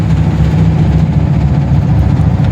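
A boat engine drones loudly and steadily as the boat pulls away from the watch tower on Tanguar Haor wetland, a constant low rumbling hum with no pauses and no voices.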